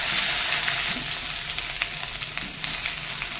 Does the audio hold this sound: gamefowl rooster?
no